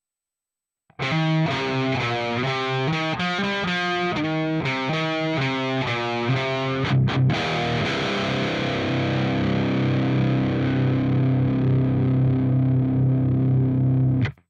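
Distorted electric guitar through an Ampero 2 Stomp amp modeler plays a rhythmic riff with a chorus-like shimmer, then settles into a long sustained chord ringing out loud and close.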